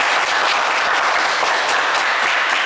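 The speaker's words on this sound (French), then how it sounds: "applaudissez-les, évidemment, pour les encourager" Studio audience applauding game show contestants on Le Coffre Magic, a dense, steady, loud wash of clapping with no talk over it.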